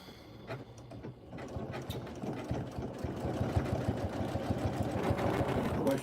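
A Janome M17 sewing machine runs steadily at close range, its even mechanical hum and rapid needle rhythm holding for several seconds without pause.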